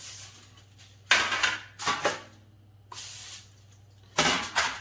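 Olive oil cooking spray hisses from a can in four short, close bursts, each a brief sharp spray separated by quiet pauses.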